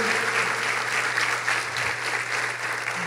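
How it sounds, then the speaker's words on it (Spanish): Church congregation applauding on Easter Sunday during a service, a continuous, dense burst of clapping from many hands filling the room for a few seconds. "Habrá alguien que pueda darle un aplauso a Dios en este domingo de resurrección."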